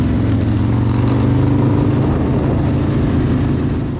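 An El Diablo Lowrider ST motorcycle riding on a cold day, its engine a loud, steady low rumble that holds throughout, near and with no talk.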